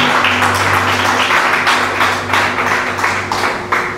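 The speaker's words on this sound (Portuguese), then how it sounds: "aplauda ao Senhor" A church congregation applauding during a worship service, with dense clapping in rhythmic bursts over a steady low tonal hum, filling the room for several seconds.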